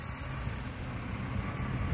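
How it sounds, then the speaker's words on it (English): A garbage truck collecting rubbish outside a house, heard as a steady, loud rumbling engine and mechanical drone that runs unbroken throughout. "Again, it's a garbage truck."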